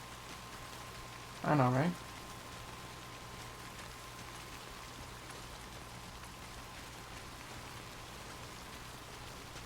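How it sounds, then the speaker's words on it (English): Steady rain falling in the Death Stranding video game, a soft continuous hiss throughout with a short burst of speech partway through. "Is the rain getting worse?"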